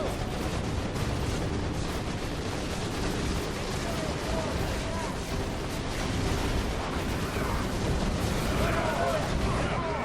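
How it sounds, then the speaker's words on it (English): Dense, continuous gunfire and explosions from a Warhammer 40,000: Chaos Rising battle, a loud rumbling barrage of blasts and shots with voices speaking over the din. "We are under heavy fire from insurgent forces inside the perimeter"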